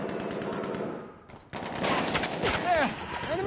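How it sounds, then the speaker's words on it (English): Bursts of rapid machine gun fire in the PS4 game Battlefield 1 during a competitive match, loud and close, broken by a short pause, then heavier gunfire with explosion-like sweeps, under brief voice chatter. "Enemy machine gun!"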